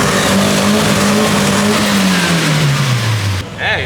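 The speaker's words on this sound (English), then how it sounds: "Hey, spun the wheels." A turbocharged Nissan Silvia with an SR20DE engine and open differential spins its wheels on a dyno, the engine screaming loud and close with a steadily falling pitch before cutting off abruptly, followed by a brief voice.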